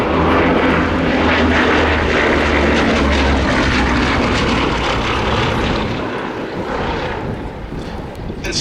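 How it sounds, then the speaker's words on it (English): Bristol Blenheim Mk1 twin-engine propeller bomber flying at an airshow, a loud, steady droning roar of its piston engines close by, easing slightly as it passes, with a voice commentating faintly underneath. "that 8-seat twin-engine aeroplane was faster than any fighter in the Royal Air Force"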